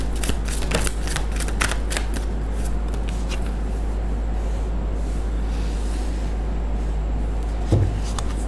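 A tarot card deck is shuffled up close, giving repeated crisp riffling and flicking bursts early on, then softer handling against a steady low hum, with a brief thump near the end.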